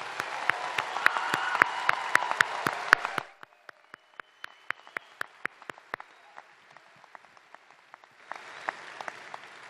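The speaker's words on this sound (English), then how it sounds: "Let's give you a huge round of applause." A graduation audience at the St. Louis University Chaifetz School of Business 2023 precommencement breaks into loud, dense applause for about three seconds, then it cuts off abruptly, leaving a quieter room with scattered sharp clicks.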